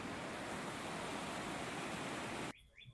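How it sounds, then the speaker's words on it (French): A river running beside a bike path gives a steady broadband rush of flowing water that fills the clip, then cuts off abruptly near the end, leaving faint quiet sounds. "on s'arrête pour regarder la rivière qui longe la piste cyclable"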